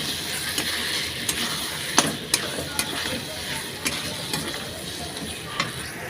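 Spice masala being stirred in oil in a pan while cooking tengra fish, a constant sizzle broken by sharp clicks and scrapes of the spatula against the pan.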